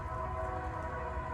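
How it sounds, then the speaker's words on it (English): A train rumbles past nearby as a steady low drone with a faint tonal hum above it, continuous and fairly distant-sounding, heard outdoors in a spring vegetable garden in Houston with no talk. "Sorry, there's a train."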